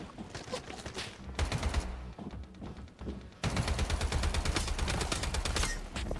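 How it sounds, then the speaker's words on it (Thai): Rapid automatic gunfire aimed at the player in the shooter game Lost Light, dense bursts of shots rattling in quick succession with a brief lull before a sustained, loud volley. "เฮ้ยมีคนยิงผม"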